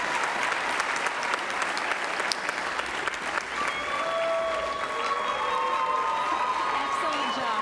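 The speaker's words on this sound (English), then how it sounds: "Another big round of applause for Team Dustin." Audience applause at a high school entrepreneurs' pitch event: steady, dense clapping fills the room throughout and gradually gives way to faint musical tones in the second half.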